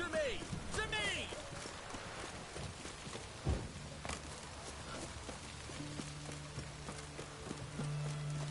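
Roach, a horse in the video game The Witcher 3, clip-clops along at a steady pace, hooves close and clear throughout, with game music and effects layered around and a few brief voices heard.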